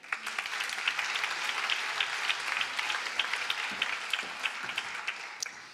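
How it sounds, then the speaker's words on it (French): Steady applause from an audience fills the whole stretch, dense clapping at an even level with no voices on top. "Vous pouvez l'applaudir."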